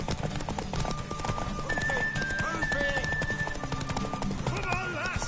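In The Witcher 3, horse hooves clip-clop at a fast gallop with a whinny rising out of the mix, under game music and spoken voices.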